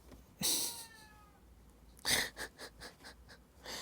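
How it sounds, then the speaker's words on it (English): A cat meows twice, nearby, followed by a run of short breathy cries, in an otherwise quiet room. "Speaking of noises, there's another cat."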